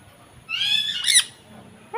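A bird gives two loud, harsh squawks close by, one right after the other, followed by a short quiet gap and the start of another call.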